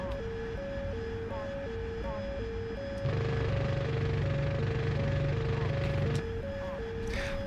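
Engine of an AV-8B Harrier running in the DCS combat flight simulator, a steady loud drone with a pulsing warning tone over it and a heavier rumble swelling for a few seconds in the middle.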